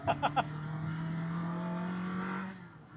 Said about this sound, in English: the noise comes from a standard exhaust